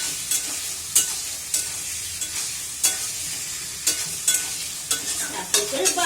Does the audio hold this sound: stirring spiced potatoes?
yes